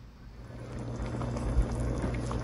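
Beef rendang simmers in a pan, with no water or coconut milk added, as the meat gives off its own liquid; a soft, steady bubbling and sizzling hum runs throughout, close by with no voices.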